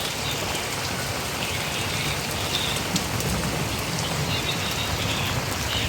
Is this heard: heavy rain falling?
yes